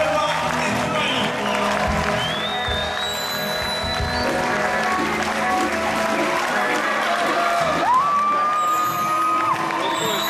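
Audience at a Congolese entertainment show applauds and cheers to welcome Papa Wemba on stage, a loud, steady wash of clapping and shouts with a few whoops rising above it.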